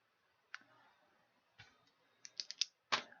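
Short bursts of typing on a computer keyboard, a few scattered key clicks at first, then a quicker cluster of sharp taps up close in an otherwise quiet room.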